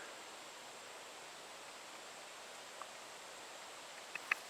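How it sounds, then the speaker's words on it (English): A river flowing at a bird sanctuary in Lansing, Michigan, heard as a steady, even broadband rush that stays constant throughout, with a couple of tiny brief clicks near the end. "There's the river right there."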